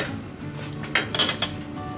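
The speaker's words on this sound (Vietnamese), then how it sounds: "mình cũng đang bắt cái chảo dầu nè các bạn, thì mình sẽ để bí nè, mình để vào trong đây" Squash pieces go into a frying pan of oil, giving a few light clinks and taps of metal and utensils over a low steady background hum, brief and close.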